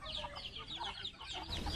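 Chickens being fed on a family farm cluck and chatter softly at close range, a busy run of short overlapping calls with no talk over them.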